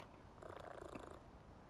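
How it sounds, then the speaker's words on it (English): Cat purring in the PowerWash Simulator 2 video game, a soft steady rumble that swells in the middle of the clip under a busy game background. "They've added a cat to this game."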